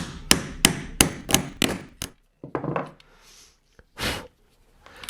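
Close, sharp hammer taps on a socket wrench nut seating a part while fitting a Bosch POF 1200 AE router: six quick strikes in a steady rhythm, a pause, then a few more scattered knocks, with no talk.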